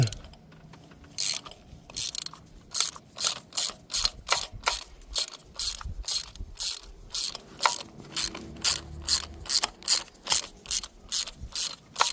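Ratchet on a long extension loosening spark plugs on a 2018 Hyundai Elantra, a fast series of about twenty crisp clicking bursts in steady rhythm, close and alone.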